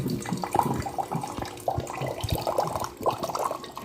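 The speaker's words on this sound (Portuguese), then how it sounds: "Vou mostrar pra vocês eu colocando água aqui." Tap water pouring steadily while drink ingredients are prepared at home, a continuous splashing rush with uneven bursts, fairly close, no talking.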